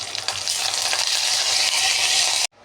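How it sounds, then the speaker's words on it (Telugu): Mustard seeds and dried red chillies crackling in hot oil for a tomato chutney tempering, a bright steady sizzle that cuts off abruptly near the end. "ఇంకా పచ్చడి అయితే తిరగమాతేస్తున్నా. దాంట్లో ఆవాలు, ఎండుమిర్చి వేసాగా"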